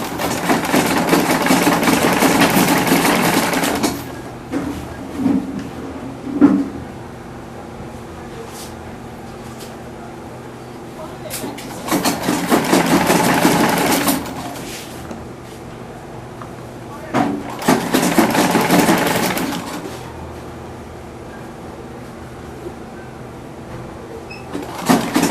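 Machine stitching on African men's buba and sokoto fabric, a sewing machine running in three bursts of several seconds each with quieter pauses between, close by, and a voice speaking in the gaps.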